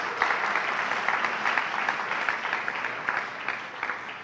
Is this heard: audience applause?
yes